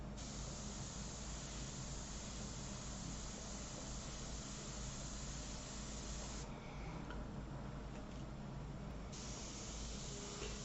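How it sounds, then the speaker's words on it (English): An airbrush sprays paint for a pastel portrait underpainting on wood, a quiet, continuous airy hiss that runs steadily throughout, shifting briefly in tone partway through. "So with the airbrush, I can definitely start getting some of the subtle details in the face."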